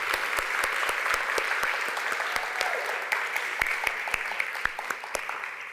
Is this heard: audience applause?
yes